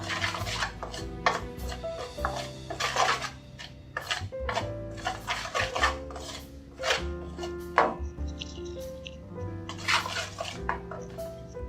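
Potato fries are tossed with salt and spice powder in a bowl, making uneven clattering knocks and rustling scrapes against the container, close and fairly quiet.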